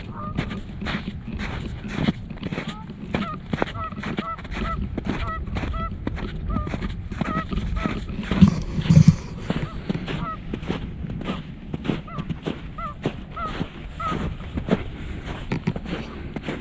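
Geese honking repeatedly on a winter hike, a steady series of nasal calls from a flock at moderate distance, with footsteps and scattered rustling throughout.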